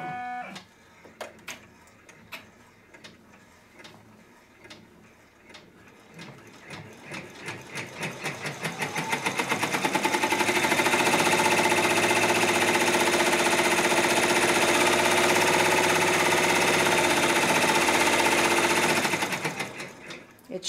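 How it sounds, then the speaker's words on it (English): A Brother PR1055 multi-needle embroidery machine starts with a few isolated clicks, then speeds up into a fast, loud, steady mechanical stitching rattle that runs evenly for about ten seconds before stopping. "It's going to take 21 minutes to stitch out."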